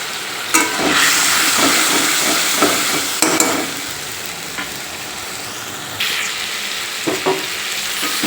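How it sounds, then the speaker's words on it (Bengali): Ginger, garlic, chili and tomato paste sautéing in a hot pan, a steady loud sizzle broken by several sharp bursts of spattering and a few scrapes of stirring. "আদা রসুন লঙ্কা টমেটো আছে পেস্ট দিয়ে দিলাম দিয়ে কষাবো"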